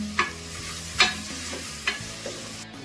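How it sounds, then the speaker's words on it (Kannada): Capsicum, peas, mint and coriander frying in a pan, stirred with a spoon: a steady close sizzle broken by four sharp scraping strokes at a slow, even pace. "ಕ್ಯಾಪ್ಸಿಕಮ್ ಬಟಾಣಿ ಬಾಡ್ತದಂಗೆ ಸ್ವಲ್ಪ ಪುದೀನ ಹಾಕ್ಕೊತಾ ಇದ್ದೀನಿ, ಒಂದು ಕೈ ಹಿಡಿಯೋಷ್ಟು"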